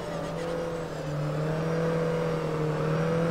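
A touring race car in Grid Autosport is held flat out, its engine giving a sustained, loud, rising tonal howl that climbs steadily in pitch as it accelerates, with no voices.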